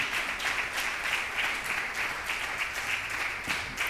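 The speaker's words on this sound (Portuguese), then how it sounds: "Desocupe as suas mãos aí e ofereça um forte aplauso a Jesus." A church congregation gives a steady round of applause, many hands clapping in a sustained, even wash of sound from a large room, moderately loud throughout.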